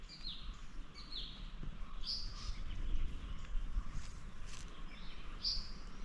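Small sparrows chirping inside a forest, short bright calls repeating now and then over a steady low ambient rumble, with no voices.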